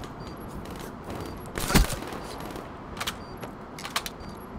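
Gunfire in a tactical first-person shooter bomb round: a loud broadband crack near the two-second mark, then a few fainter scattered shots over steady background game noise.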